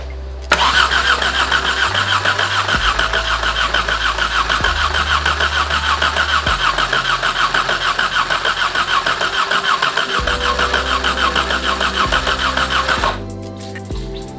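An Exocet kit car with a stuck-open fuel injector cranks loudly and close up for about thirteen seconds, the starter's rhythmic churning sometimes catching and surging without settling into an idle, then stopping abruptly.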